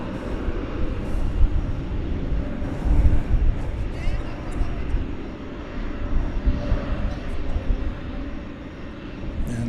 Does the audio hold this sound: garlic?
no